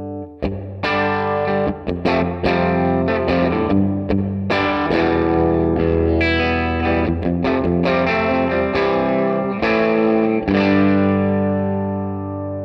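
Electric guitar played through a Silvertone 1484 amp fitted with a Mod 50 speaker, with a run of strummed chords and picked notes that ring with distorted, effect-laden tone, loud and continuous with no talking.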